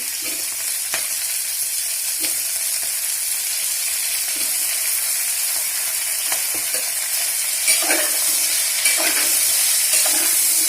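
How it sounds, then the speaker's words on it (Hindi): Radish, potato and eggplant hitting hot oil in a pan for a no-onion, no-garlic curry, giving a loud, steady, close sizzle that hisses on throughout with faint stirring clicks, and no one speaking. "मूली डालते हैं इसमें आलू और बैंगन भी डाल देंगे।"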